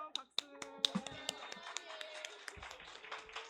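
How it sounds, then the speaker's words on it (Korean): A handful of scattered, uneven hand claps from the congregation at a church youth Sunday service, sharp and close, mixed with voices and some tonal background sound. "잘 왔어요. 박수."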